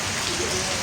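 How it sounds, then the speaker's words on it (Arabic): Heavy rain pours down on the open Sahl al-Rouj plain, a dense, steady hiss of water striking the ground that holds even and loud for the whole short stretch. "من سهل الروج أمطار غزيرة"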